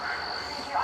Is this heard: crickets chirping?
yes